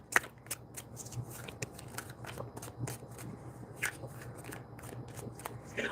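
Goddess oracle cards being shuffled by hand, a steady run of soft riffling and papery flicks with faint scattered ticks, fairly quiet and close, with no voices over it.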